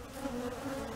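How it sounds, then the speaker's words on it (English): Honeybees hum inside a healthy hive trapped out of a pecan tree on a golf course, a steady close drone with a faint wavering pitch and no voices. "There's a lot of bees in here."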